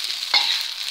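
Nasi goreng terasi with petai sizzles steadily in a hot pan, and a brief scrape of stirring cuts in near the middle, close and moderately loud with no talk.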